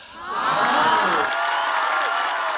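A studio audience at a stand-up comedy show erupts into loud, sustained cheering and applause, a dense roar of whoops and clapping that swells quickly and holds steady.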